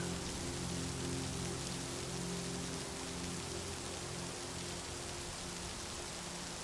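Steady rain falls without a break, a dense, even wash of raindrop taps with a soft low hum beneath it, close and constant throughout.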